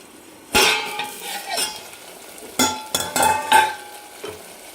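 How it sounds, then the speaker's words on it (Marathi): A spatula scrapes and clanks against a pan as chicken masala is stir-fried in oil over a low gas flame, irregular metallic knocks over a soft sizzle. "तर आता याला एकदम तेल सुटेपर्यंत आपल्याला याला परतून घ्यायचं आहे मंद गॅसवर"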